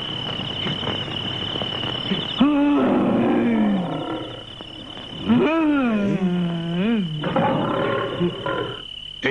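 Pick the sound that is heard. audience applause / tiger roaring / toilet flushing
tiger roaring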